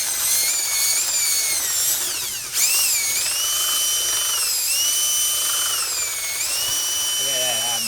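A DeWalt power drill whines loudly and steadily while mixing during baking, pitch rising and dipping as the load changes, with a brief pause midway and a slowdown at the end.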